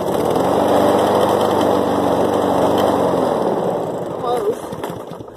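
A 2007 Snapper self-propelled lawn mower engine turning over on a hard cold start, loud and close, a steady running drone for about four seconds before it fades and sputters, with a voice in the background.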